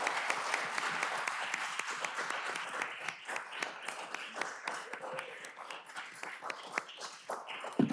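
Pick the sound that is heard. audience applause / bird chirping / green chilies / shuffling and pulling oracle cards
audience applause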